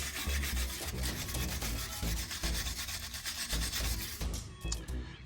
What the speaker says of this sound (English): we'll just take some brake cleaner and a wire brush,